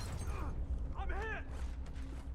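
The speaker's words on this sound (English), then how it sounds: "Loading new mag. Switching mags." A magazine swap on a gun in a first-person shooter video game: a short burst of clicking, sliding mechanical clatter in the middle, set against low background rumble and faint game noise.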